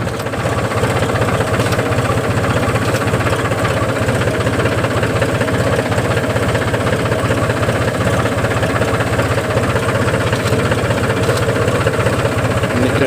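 A tractor engine runs steadily at idle, a continuous low rumbling chug with knocking vibration, close and unchanging throughout.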